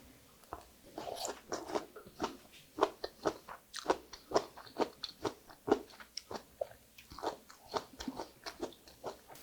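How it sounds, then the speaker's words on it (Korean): Crunchy bites and chewing of seasoned sea mustard tossed with apple, a steady run of close, crisp crunches repeating every half second or so, with no talk. "또 사과하고 세미역하고 무쳐 놓은 거를 또 먹어보도록 할게요."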